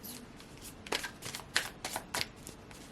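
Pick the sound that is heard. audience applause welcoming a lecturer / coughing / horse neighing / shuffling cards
shuffling cards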